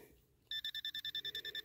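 A metal detector, an AT Pro, sounds a rapid train of about ten high electronic beeps in even, pulsing rhythm after a moment of quiet outdoor background, fairly faint overall.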